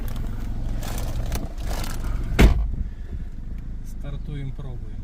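A Bashan 300 4x4 cargo quad bike pulls away in first gear, its engine a steady low drone with a brief clunk midway as it sets off, while someone talks over it.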